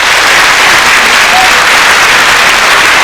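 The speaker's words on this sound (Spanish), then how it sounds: "fuerte ese aplauso para este ungido de Dios" A church congregation at a retreat applauds loudly to welcome Father Oscar, a dense, unbroken wash of clapping filling the room.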